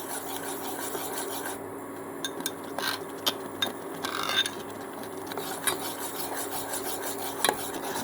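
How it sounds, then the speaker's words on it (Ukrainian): A utensil scrapes and rubs steadily against the inside of a pot while stirring in agar-agar, with faint scattered clicks over a quiet background hum. "ми вкидаємо агар-агар і дуже гарно помішуємо"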